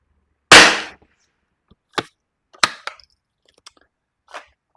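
A single loud, sharp Springfield 2020 rimfire rifle shot fired with Cinerex ammunition, close and alone, followed by a few faint clicks and light handling knocks.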